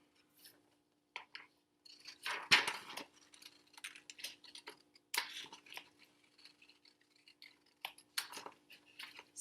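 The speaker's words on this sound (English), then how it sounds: "You're going to take your scissors and cut it out." Scissors cut paper during a kids' birdhouse-building activity: quiet, scattered snips and clicks arrive in irregular bursts with pauses between them.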